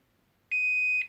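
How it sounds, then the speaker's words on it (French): An ECOVACS Deebot 605 robot vacuum gives a single loud, steady electronic locator beep lasting about half a second, close and clean against near silence. "il bip au cas où qu'on l'ait perdu"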